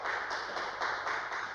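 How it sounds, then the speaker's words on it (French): Children clapping in a classroom, a quiet steady patter of many small hands with a faint rhythmic pulse, heard somewhat distant and without talk. "Applaudissez plus fort encore pour ce jeune homme"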